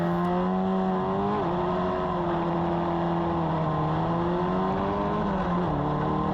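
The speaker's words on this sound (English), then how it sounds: "Get a bit too much wheel spin there" A Formula Ford race car launches off the start line, its engine droning loud and continuous from inside the car, the pitch climbing and dipping as it pulls away.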